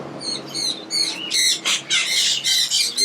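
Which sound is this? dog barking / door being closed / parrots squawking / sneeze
parrots squawking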